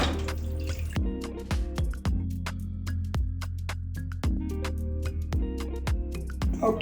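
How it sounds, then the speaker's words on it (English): Water is poured into a blender holding a food mixture, with drips and liquid splashes sounding in a quick uneven series of close, small impacts and gurgles and no talk over them. "I'm going to add a little water to it."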